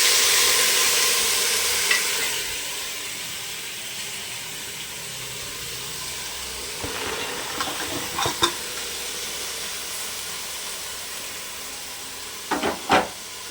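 Washed, drained vegetables fried over onions in a pan for a simple vegetable saagu, with steady hissing sizzle, then scattered clatters and scrapes of stirring that grow sharper toward the end, with no voices.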